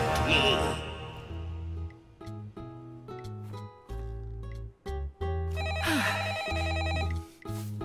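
An old-style telephone bell rings in repeated bursts with short gaps between them, loud and close, set against a bright musical jingle in a French children's cartoon.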